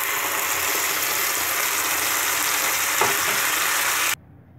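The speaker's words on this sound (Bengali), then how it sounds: "আবার কড়াইয়ে আমরা ঘি তেল দিয়ে দিয়েছি, এবার আমরা লালটা ছেড়ে দেব।" Red-tinted paneer tikka frying in hot ghee and oil in a kadai, a dense steady sizzle that holds loud and even for about four seconds before cutting off abruptly to near quiet.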